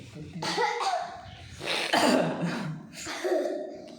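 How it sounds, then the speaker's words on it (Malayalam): A person coughs three times in close, harsh bursts, each followed by a short pause. "ചെറിയ ചുമയുണ്ട്"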